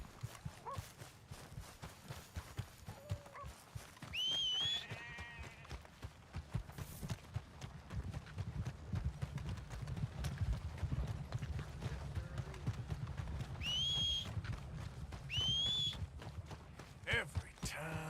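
Horse hooves clip-clopping on the ground in the video game Red Dead Redemption 2, a steady rhythmic trot through most of the stretch, low and muffled, with someone talking and short whistles over it.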